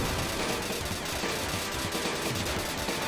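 Rapid gunfire from a plane in an arcade shooting game, a dense, loud, continuous stream of shots in quick bursts mixed with game effects, with no speech.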